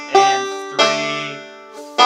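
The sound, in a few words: banjo playing measure 5 of Banks of the Ohio with pinches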